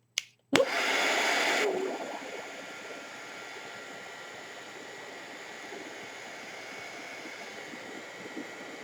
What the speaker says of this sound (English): Get the dryer turned on.